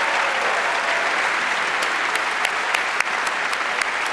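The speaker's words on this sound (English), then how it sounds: "Give them a round of applause." Sustained applause from a commencement audience celebrating the graduating class of 2019 at the Bullis School, dense and steady clapping with a few sharper claps standing out, no voices heard.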